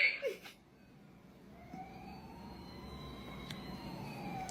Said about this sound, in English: I hear a fire truck